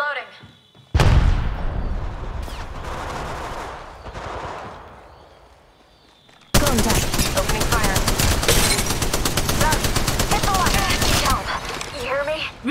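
Apex Legends gunfire in rapid automatic bursts, loud and dense, with a brief opening burst, a quieter lull, then a long sustained stretch of rapid shots.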